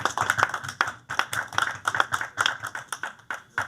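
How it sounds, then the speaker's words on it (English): Applause for the president in a room at a website relaunch event: a handful of people clapping close by, with individual sharp claps audible in an uneven, quick rhythm. "another big round of applause for our president"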